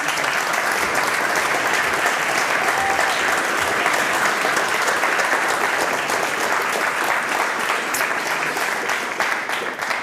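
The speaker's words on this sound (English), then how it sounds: "I would like to give our speakers one final applause for both of their talks today" A large audience gives a sustained, dense round of applause for two speakers at the close of a conference session, steady and loud throughout with no break.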